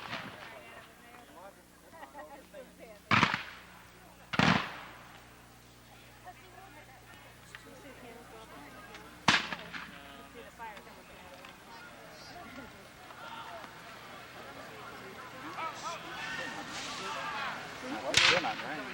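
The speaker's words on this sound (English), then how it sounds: "They're firing that away. And they got cannons shooting right at them." Cannon and musket fire at the 1992 Battle of Perryville Civil War reenactment in Kentucky, heard as several sharp distant booms spread out over the clip while people nearby talk throughout.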